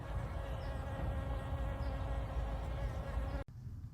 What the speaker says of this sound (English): And the bees are really happy here this morning.